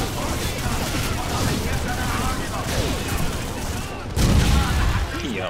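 Rapid gunfire rattles through a Call of Duty 4 battle, with bursts and a heavier blast near the end, under someone talking.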